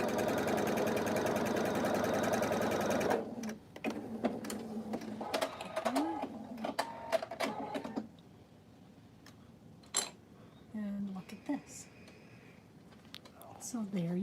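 A sewing machine runs in a steady, dense whir for about three seconds while stitching a tumbling block quilt piece, then stops, followed by quieter handling clicks and talk.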